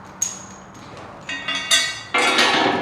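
Metallic clinks and ratcheting of a wrench working a bolt on an EZGO TXT golf cart during a snow plow install, a few sharp close hits followed by a brief burst of ratchet clicks.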